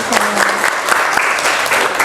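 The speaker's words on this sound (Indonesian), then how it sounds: "Oke, tepuk tangan dong." Schoolchildren in a classroom clap loudly and steadily for a couple of seconds, a close, dense patter with a brief voice at the start.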